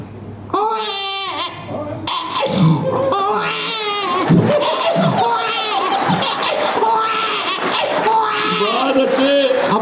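A comedian imitates a crying baby with his voice, giving wavering, bleating wails that rise and fall over several seconds while an audience chuckles and murmurs in the background.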